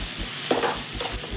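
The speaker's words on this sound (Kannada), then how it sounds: "ಚೆನ್ನಾಗಿ ಫ್ರೈ ಮಾಡ್ಕೋಬೇಕು." Egg frying and being stirred in a pan for an egg burji with drumstick leaves: a soft steady sizzle with a few scraping stirs of a spatula, close and alone.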